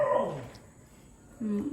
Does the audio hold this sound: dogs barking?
yes